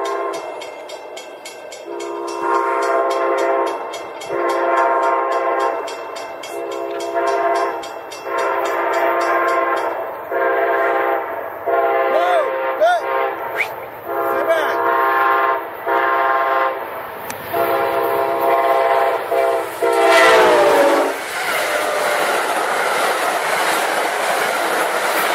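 A northbound Amtrak train rolls past with steady clattering, its horn blaring in long repeated blasts before the roar fades out.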